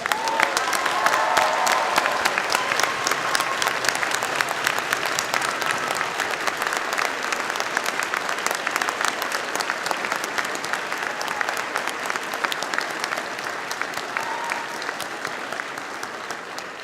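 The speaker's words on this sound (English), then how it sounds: "Graduates, a round of applause." Sustained applause for graduates at a spring convocation ceremony, a large audience clapping steadily and densely for over fifteen seconds with a faint crowd murmur underneath.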